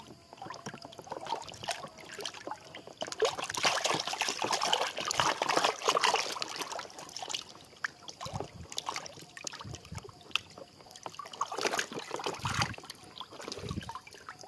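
Toy masks of Avengers, Ultraman, Captain America and Hulk are washed in water, with close irregular splashing, sloshing and dribbling that swells and eases in bursts.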